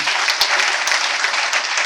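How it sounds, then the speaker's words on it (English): A crowd at a cabin crew fair claps for a departing speaker, giving a loud, dense wash of applause that stays steady and close throughout, with a few sharper claps standing out. "another round of applause for her"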